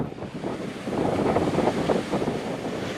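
Strong wind roars across the microphone and waves surge around a reefed sailboat in a 30-knot storm off the Outer Banks, forming a loud, continuous rushing wash.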